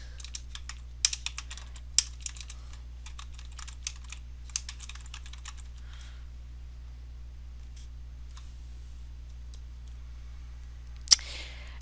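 Computer keyboard typing a campaign name while setting up a group email in real estate database software, a quick run of close clicking keystrokes fading into sparse taps, then a final sharp click, all over a steady low hum.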